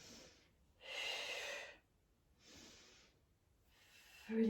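Slow, deep breaths during a hip flexor stretch in a runners' warm-up: three or four close, airy inhales and exhales in a quiet room, each lasting about a second.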